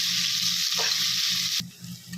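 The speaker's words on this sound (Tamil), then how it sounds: "பெரிய வெங்காயத்தை நறுக்கி இதில் சேர்த்துக்கலாம். இதை நல்லா வதக்கிக்கணும்." Sliced big onions sautéing in a pan for tomato rice, a loud steady sizzle with a brief stir partway through before the frying dips and resumes.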